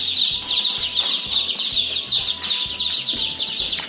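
Many young chicks in a brooding cage peep and cluck in a dense, continuous high-pitched chatter, close by, with faint low tapping underneath and no talk.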